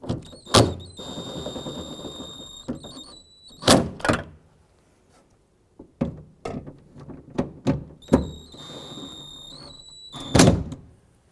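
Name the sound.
tightening door handle bolts on Chevy Colorado door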